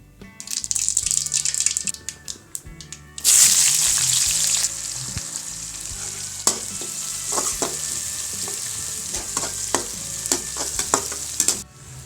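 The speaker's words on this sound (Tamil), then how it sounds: "இப்போ சாம்பார் எப்படி தாளிக்கலாம்" Spices tempering for sambar crackle and sizzle in hot oil, then a loud hiss erupts, settling into steady frying with stirring clinks.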